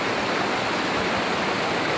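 Steady roaring gush of water at the Río Mundo springs waterfall near Riópar, a dense continuous rush heard up close with no voices.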